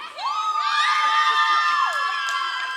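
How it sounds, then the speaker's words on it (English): A crowd at a pharmacy college commencement ceremony erupts in loud cheering and high whoops, a dense sustained roar of voices with a few shouts rising above it. "Wow, that is quite a cheer."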